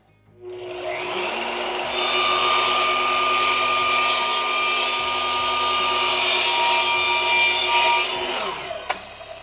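An Evolution steel-cutting saw slices through steel during sign fabrication, a loud, steady high-pitched metallic whine with grinding rasp that spins up, holds for about eight seconds, then winds down, with no talk.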